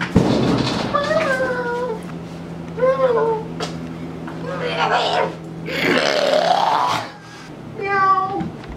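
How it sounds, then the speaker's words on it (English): A cat meows several times in a noisy indoor setting, with people talking and voices overlapping the cries throughout. "Cat's meowing."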